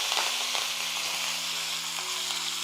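Dried red chilies, asafoetida and curry leaves hit hot oil with mustard seeds for a South Indian tempering, giving a steady, close, continuous sizzle and crackle with no talk throughout.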